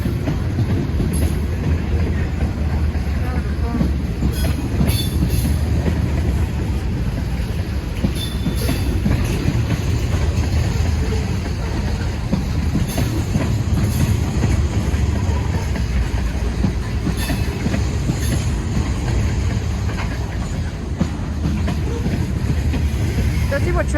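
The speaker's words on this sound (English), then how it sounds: "Let's see what train this is" A train rolls past a crossing on a railroad line in Fayetteville, North Carolina, its loud, steady rumble of wheels on rails filling the whole stretch, with faint squeals and clacks over the continuous roar.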